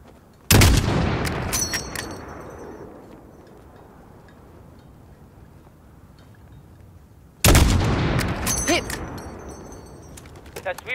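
Two loud long-range rifle shots from a sniper in Call of Duty: Modern Warfare (2019), each a sharp crack with a long rolling echo, several seconds apart, with faint ambience between them.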